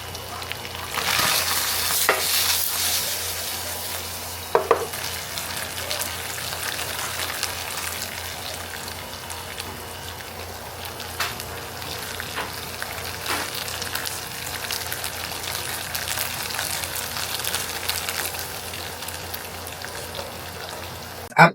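Sardine sisig frying and being stirred in a pan, a steady close sizzle with scattered scraping clicks from the spoon, running continuously with no talk.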